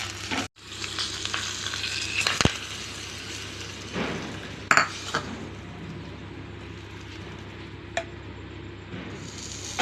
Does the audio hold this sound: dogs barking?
no